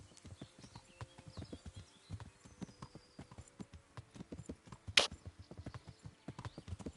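A horse gallops in the medieval video game Kingdom Come, giving rapid, steady hoofbeats throughout with a brief sharp click partway.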